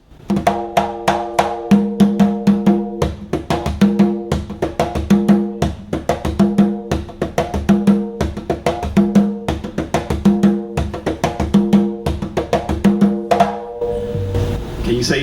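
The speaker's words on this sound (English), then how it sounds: "the most famous Bomba pattern is the Sicá pattern" Puerto Rican Bomba drums play the Sicá rhythm, a steady, driving pattern of close, loud hand-drum strikes with repeated accented low tones, continuing without pause until a brief fade at the end.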